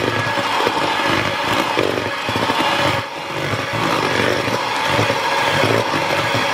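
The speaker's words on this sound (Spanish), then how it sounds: "Añadimos el resto de la harina, de los ingredientes secos. Y de nuevo volvemos a batir." An electric mixer whirs steadily through cupcake batter as the remaining flour and dry ingredients are beaten in, a loud continuous motor drone with a brief dip midway and no voices.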